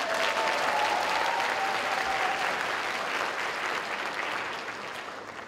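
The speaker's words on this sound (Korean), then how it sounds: "우리 하재경 사장님 좀 박수 한 번만 주세요." An audience at a talk or seminar gives a burst of sustained clapping. It stays dense and fairly loud, then tapers slightly toward the end.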